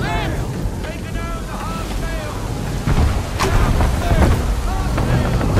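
Strong wind gusting at sea in the Assassin's Creed 3 video game, a loud roaring rush over creaking ship and water sounds, swelling louder midway, with voices calling out.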